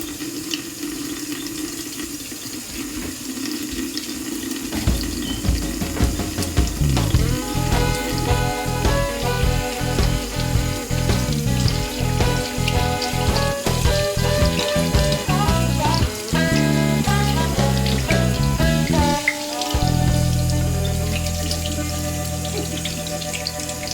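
Kitchen tap running steadily while hands are washed under it before cooking, a close, continuous splashing rush with shifting bubbly tones as the flow is interrupted, ending in a softer drumming of water into the sink.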